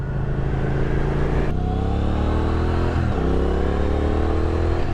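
A 2023 Triumph Speed Twin 1200 motorcycle without a quick shifter accelerates hard, its loud, close engine note climbing through gears with two shifts breaking the rising pitch.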